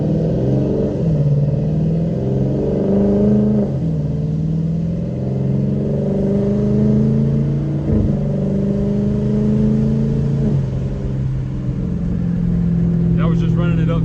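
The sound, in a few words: Dodge Challenger RT Hemi engine revving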